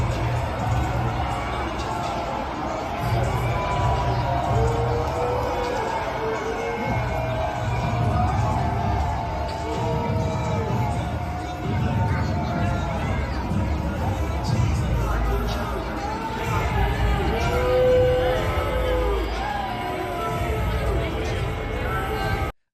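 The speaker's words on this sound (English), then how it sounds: "You'll hear jeers and all sorts of stuff." Crowd at a football game booing and jeering as Trump's SUV arrives, a sustained roar of shouts, whoops and boos from many people at a distance, steady throughout.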